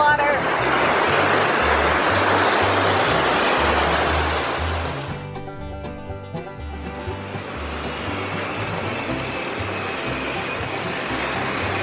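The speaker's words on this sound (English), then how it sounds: "Mrs. Peacock, this is quite a falls." A waterfall at Falls Park in Sioux Falls, South Dakota, roars loudly and steadily, then the rushing drops to a softer but continuous wash of water for the rest of the clip.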